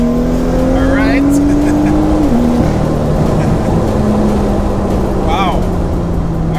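A tuned BMW M2 with a Stage 2+ tune accelerates hard through first and second gear, its engine rising to a loud roar, dropping briefly at the shift, then pulling again, heard from inside the car with occupants talking.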